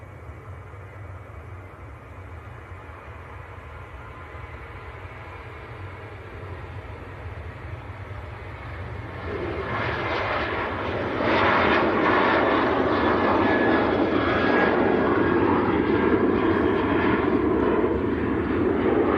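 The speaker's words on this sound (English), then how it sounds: "Next on the roll is Ryanair going out to Murcia" A Ryanair airliner taking off from Manchester bound for Murcia, its engine roar rising from a distant rumble to a loud, rushing broadband blast that swells midway and holds, with no voices.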